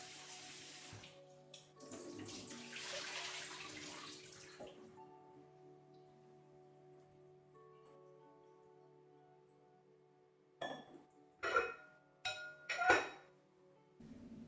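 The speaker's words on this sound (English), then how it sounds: "remove the vegetables, rinse under cold water." Cold tap water running into a sink as cut turnips, carrots and cauliflower are rinsed, a steady splashing stream early on, then quieter, ending with a few louder bursts of water and clinking dishes close by.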